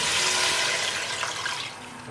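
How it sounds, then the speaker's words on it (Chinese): Water poured into a hot pan of seared duck and sauce, a steady broad splashing rush that stays loud and close, easing slightly toward the end with no voices. "加入适量清水，"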